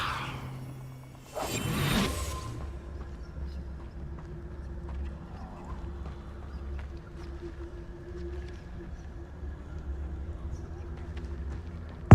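A Levioso levitation spell cast in the video game Hogwarts Legacy gives a short whooshing burst near the start, followed by a low steady game ambience with faint clopping.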